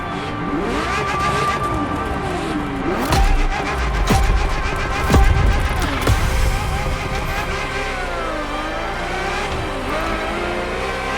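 Ferrari F50 engine in The Crew Motorfest, a loud, steady racing drone with rising and falling revs through gear changes, plus a few brief thumps and impacts along the way.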